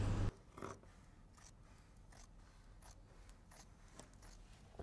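Scissors cutting fabric for a skirt pattern, a series of faint, crisp snips at an unhurried rhythm after a brief louder thump at the start, with no talking.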